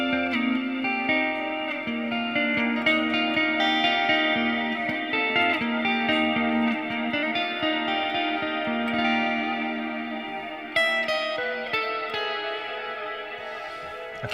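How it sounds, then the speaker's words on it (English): An electric guitar rings through a cloud reverb effect, with sustained chords and notes smeared into a lush, echoing wash that plays continuously without talk. "Let's make sure we turn on the cloud reverb here."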